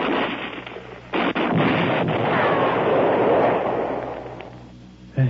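A grenade explodes in a radio drama as a loud broadband blast that swells into a long rumbling roar with wind-like noise, then fades toward the end.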